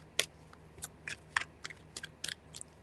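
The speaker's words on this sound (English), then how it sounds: "Three shuffles" Tarot cards shuffled by hand in three bursts, giving soft, scattered flicks and riffles spread across a few seconds over a quiet room hum, close and fairly faint.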